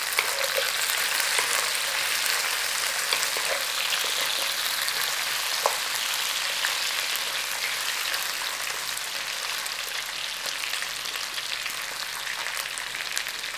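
Potatoes frying in a pan for a bacon hash, a steady soft sizzle and crackle over many seconds with a few sharper pops, fairly quiet and continuous, no voices.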